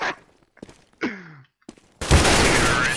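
Gunfire in a first-person shooter on an aim map, a few sharp separated shots followed by a sudden dense burst of rapid fire, loud and close.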